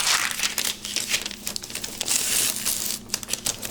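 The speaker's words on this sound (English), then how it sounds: "I took a piece of tracing paper like this, and I put it down over the top" Sheet of tracing paper handled and laid flat over a plastic piece for a 1991 Saab water pump gasket template, giving close, continuous dry crinkling and rustling with small crisp bursts throughout.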